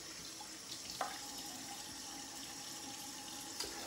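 Water runs from a tap while a shaving brush or razor is rinsed: a steady, even hiss of flowing water with a couple of faint clinks, no speech.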